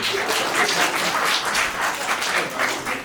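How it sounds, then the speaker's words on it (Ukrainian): An audience at a live comedy show applauds two guests, a steady, full wash of clapping from many people at moderate loudness, continuing without talk. "оплески, чарівні партнери"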